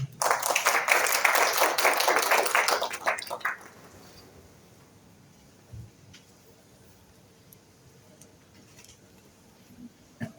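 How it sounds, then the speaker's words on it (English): An audience applauds loudly at a book launch in Mauritius. The clapping is full and close for about three seconds, then fades quickly, leaving a quiet room with a few small knocks and shuffles. "So under your applause"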